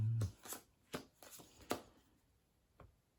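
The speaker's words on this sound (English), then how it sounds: "You can give these a shuffle." Heist cards from the One Last Score board game are shuffled in quick, soft riffling bursts, several brief papery flicks close by and fairly quiet, with no talking.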